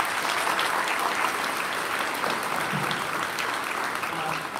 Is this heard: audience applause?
yes